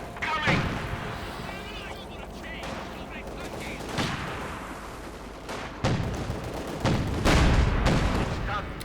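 Artillery and gunfire in a Company of Heroes 2 battle, including an ISU-152 heavy gun, with repeated booming shots and bursts of rapid fire over a dense, continuous din of battle, while a voice talks throughout.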